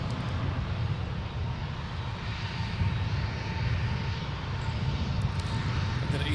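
Airliners departing from MSP airport, a continuous deep jet engine roar rising slightly in loudness, fairly close and steady without talk.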